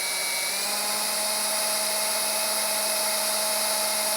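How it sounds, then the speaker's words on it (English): Steady high-pitched whine of a drill boring a small pilot hole during a Honda CBR/VFR800 hybrid motorcycle build, running continuously close up and cutting off abruptly at the end. "anytime I drill a hole, I always start with a small hole first"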